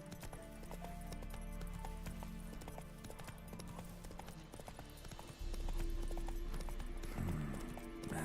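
Roach, the horse in The Witcher 3: Wild Hunt, galloping in fast, steady hoofbeats close by, with a whinny near the end and a low rumble of game sound underneath.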